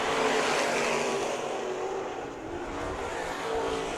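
Sprint race cars roar around the dirt track at Perris Auto Speedway during an opening-weekend heat race, a dense, continuous engine howl that stays loud and close throughout with no voices over it.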